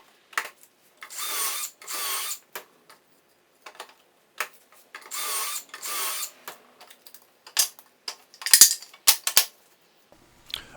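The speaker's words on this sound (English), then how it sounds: "get these pocket holes drilled" A drill boring pocket holes in wooden boards for a pegboard, with several short whirring bursts separated by pauses, plus scattered clicks and knocks of handling, close and alone.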